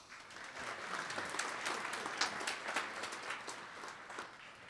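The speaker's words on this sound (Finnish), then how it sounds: "Kiitoksia ja aplodit Merjalle." Applause from a seminar audience fills the whole stretch as a steady wash of many hands clapping, moderately distant and even, with no talking over it.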